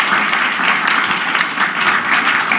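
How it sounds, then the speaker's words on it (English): A forum audience gives its panelists another round of applause, sustained and fairly loud, a dense wash of clapping with no voices over it. "can we give our wonderful panelists another round of applause?"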